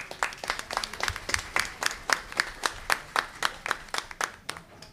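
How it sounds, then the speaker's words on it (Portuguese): Quiet, rhythmic clapping from a small audience at a committee session on combating discrimination and Afro-Indigenous culture, evenly spaced claps repeating steadily for about five seconds. "Uma salva de palmas aí para o Romário."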